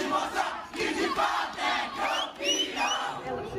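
Football supporters of Palmeiras cheer and chant as the team arrives in Londrina, a dense, continuous crowd roar with rising shouts and whistles running steadily throughout.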